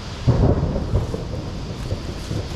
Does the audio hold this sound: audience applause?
no